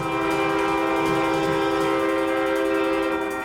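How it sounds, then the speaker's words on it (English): A train horn blares loud and sustained at close range as an oncoming train passes, a steady chord held for the whole stretch over rumbling rail noise. "An oncoming train now blocked their path"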